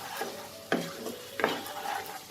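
Spice masala of turmeric, cumin, coriander and Kashmiri red chilli powder stir-fries in oil for Bengali-style chana masala, a steady close sizzle broken by two sharp scraping strokes of the spoon across the pan, with no voices.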